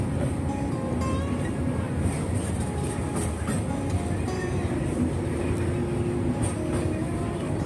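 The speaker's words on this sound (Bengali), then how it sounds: "ওই দেখো ওই দিক থেকে ব্রিজের উপর থেকে একটা ট্রেন যাচ্ছে" A train crossing the long Kolaghat bridge over a wide river, heard as a steady, continuous rumble with rattling wagons that holds at an even loudness throughout, with a faint voice in the background.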